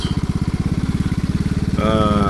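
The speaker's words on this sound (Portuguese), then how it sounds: "Agora é só estacionar a moto." Royal Enfield Classic 350 single-cylinder motorcycle idling close by with a steady thumping pulse, then the engine note shifts into a smoother, higher hum as it is parked.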